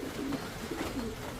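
Pigeons cooing softly in a loft, black velvet or black check birds of a line-bred stock, giving low, repeated murmuring coos at a quiet, close distance.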